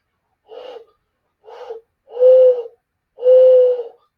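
A voice imitates an owl, giving four soft hooting calls, the last two longer and louder, with silence between them.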